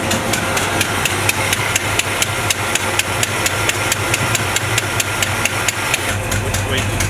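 A 1970 Chevrolet C20 truck engine runs steadily at idle after a throttle screw adjustment, a continuous low rumble with regular ticking beats throughout, close and fairly loud, with people talking over it.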